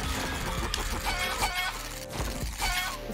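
Chickens cluck in the Wand Wars video game, a busy run of clucks and chirps layered with game music and effects, loud and continuous throughout.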